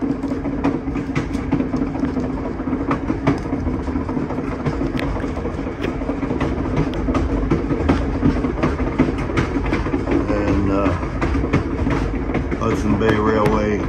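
VIA Rail train 693 rolls along the rails toward Churchill, a steady rumbling ride with repeated clickety-clack wheel beats over rail joints, loud and continuous throughout.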